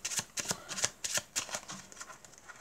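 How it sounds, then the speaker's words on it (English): A deck of playing cards is shuffled for a card trick, a run of quick crisp riffling bursts and soft snaps up close, fairly quiet, with no talk. "We're going to give these a shuffle."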